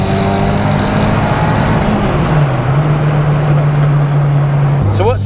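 Turbocharged 340 bhp Ford Cortina engine running, a steady low droning hum with a shifting pitch as revs change, close and loud, with no one talking.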